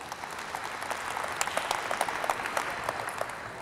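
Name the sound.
audience applause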